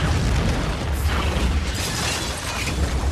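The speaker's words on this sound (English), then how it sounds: "he gets blown up and immediately just disseminated by an explosion" A large explosion from the film 47 Ronin blows apart a 13-foot-tall samurai: a loud, sustained broadband roar with deep rumbling underneath and crackling debris, continuous for the whole stretch with no voices.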